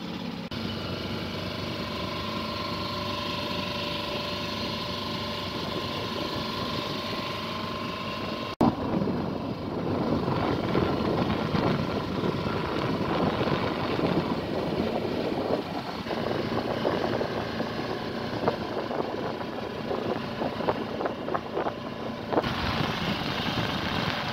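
A sailboat's engine drones with a low rumble throughout, joined partway by louder broadband noise of wind and water rushing past, on the Solent.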